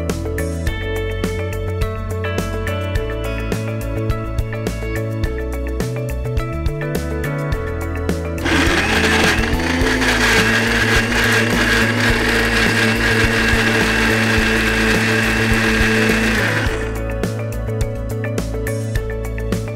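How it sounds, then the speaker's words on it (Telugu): Mixer grinder blending sugar, a loud steady whirring roar for about eight seconds that stops abruptly, with quieter kitchen sounds and music before and after. "కొద్దిగా మిక్సీ పట్టేయండి"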